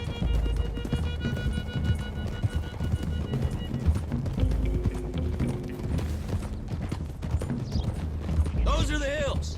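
Horses gallop in the Red Dead Redemption 2 video game, their hoofbeats clip-clopping steadily and loud over busy game ambience and mechanical rattles.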